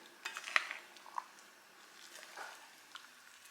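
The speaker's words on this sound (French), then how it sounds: "Je vais mélanger le tout." A spoon stirs sugar and carob in a bowl, making faint clinks and soft scraping taps, close and quiet, with no talk.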